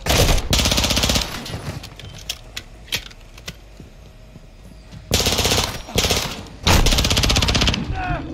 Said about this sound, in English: Oh, that shotgun did damage.